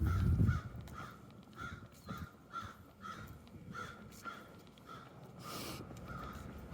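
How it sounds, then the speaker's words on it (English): Several crows caw in a repeated, evenly spaced series, moderately distant and fairly faint over a low outdoor background in a downtown street setting, with a brief rumble at the start. "I hear the crows"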